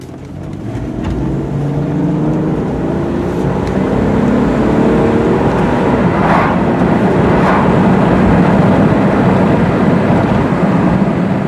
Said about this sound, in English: I'm going to really step on the gas and let you guys see how she shifts